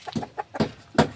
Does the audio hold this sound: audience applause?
no